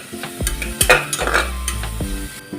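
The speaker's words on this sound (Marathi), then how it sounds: "कांदा आपल्याला याचा कलर चेंज होईल तोपर्यंत परतून घ्यायचा आहे" Chopped onion sautéing in a pan over a medium flame for chicken soup, with a close, continuous sizzle broken by a few sharp scrapes and clinks of a spatula as it is stirred.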